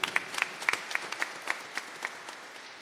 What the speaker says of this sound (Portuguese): Pode aplaudir, pessoal.